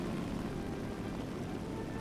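A La-7 propeller fighter in the War Thunder video game drones with a steady, dense engine roar that holds at an even loudness throughout, filling the low end with a continuous rumble.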